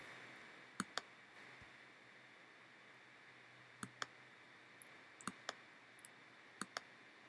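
A computer mouse gives sharp single and double clicks, about ten in all, spaced irregularly over a faint steady hum with no other sound.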